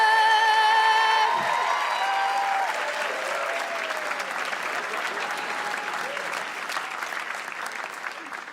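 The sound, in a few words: audience applause and cheering welcoming a comedian to the stage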